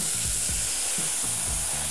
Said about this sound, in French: On va verser notre jus de cuisson dans la casserole qui a récupéré tous les sucs de l'oignon.